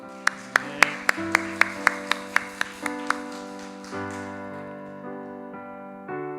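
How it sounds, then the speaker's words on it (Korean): A church congregation at a Korean Friday prayer meeting claps in a steady rhythm of about ten sharp beats over sustained keyboard or organ tones. The clapping then stops and the music carries on alone. "영광의 박수 올립니다."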